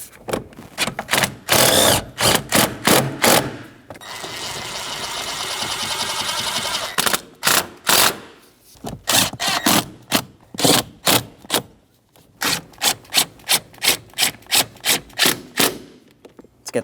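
An impact tool snugs up bolts on the AC compressor of a 2006–2011 Honda Civic, firing loud, close rapid hammering bursts in quick repeated pulses, with one longer steady whir partway through.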